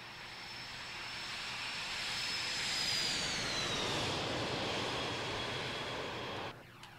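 Twin jet engines of a FlyJSim 737-200 in a flight simulator game roar through the takeoff roll, a dense broadband rush swelling with a rising whine, then cutting off sharply near the end.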